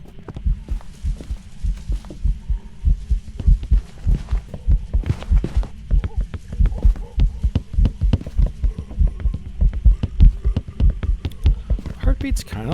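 A ghost's heartbeat in the horror game Phasmophobia thumps loudly and steadily in a fast, close, repeated double-beat rhythm, with a low hum underneath and no talk over it.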